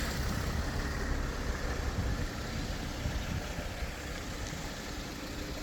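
A 2019 Volkswagen Transporter van with a manual gearbox idles steadily, giving off a low, even engine rumble with no voices over it.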